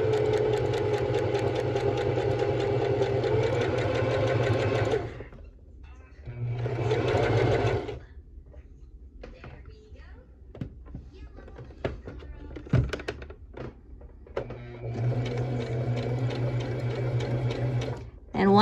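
A sewing machine stitches a buttonhole, running in a steady whirring burst for about five seconds, again briefly, then once more near the end, with quiet pauses and small clicks between runs.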